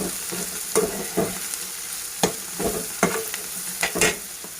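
Veg fried rice with black pepper is stirred in a pan, giving repeated scraping and tossing strokes over a soft background sizzle, close and fairly loud, with no voices.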